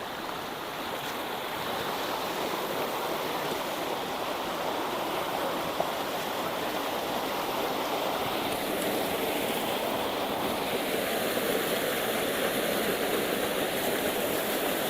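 A mountain stream and waterfall on a forested off-road trail at Kurangani roar continuously, a loud, steady rushing wash of water that fills the whole stretch without pause.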